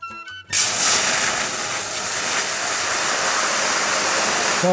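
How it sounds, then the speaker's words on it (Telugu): After a brief quiet moment, a loud, steady rush of water pours continuously into a jug at close range, hissing and splashing without pause. "అదో జగ్గులో వాటర్ పోయి"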